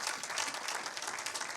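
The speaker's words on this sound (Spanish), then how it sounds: "¿Alguien puede darle un aplauso a Cristo Jesús," Church congregation applauding during a sermon, a brief burst of steady clapping with no voices over it.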